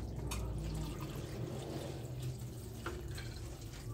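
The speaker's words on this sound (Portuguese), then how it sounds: "Deixa eu botar água agora." Water poured steadily for chickens, a continuous splashing, trickling flow, close and moderately loud with no talk over it.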